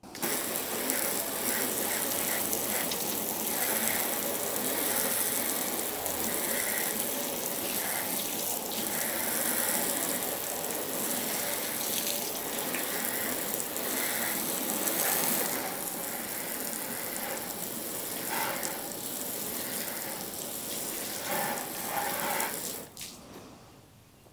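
Water is poured over ceramic-coated car paint, making a continuous splashing, hissing rush with clicking and trickling textures that carries on steadily before cutting off near the end.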